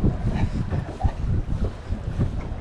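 Wind buffets the microphone on a small fishing boat out trout fishing, a loud, gusty low rumble with uneven surges and no voices.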